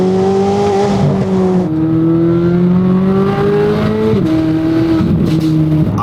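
Loud, steady exhaust drone from a Corvette C8 Z06 under way, heard from inside the car; the engine note holds and climbs, with a couple of shifts in pitch from gear changes, and nobody speaks.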